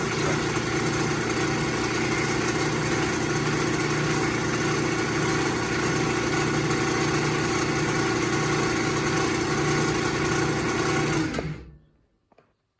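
A wood lathe whirs at a steady, loud hum with a continuous mechanical drone while a wooden goblet is sanded, then spins down and goes quiet near the end.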